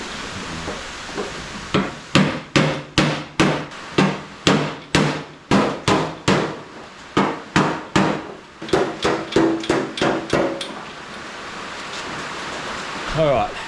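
A hammer strikes metal backed by a big socket used as a dolly, about two dozen sharp, loud, evenly paced blows ringing out with no talking.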